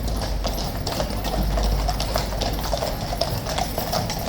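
Police horses' hooves clip-clop on pavement in a London street on a rainy day, several animals giving an irregular overlapping stream of hoof strikes, fairly close, with faint crowd noise behind.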